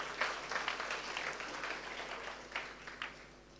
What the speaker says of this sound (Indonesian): Yang setuju kasih tepuk tangan paling meriah buat Tuhan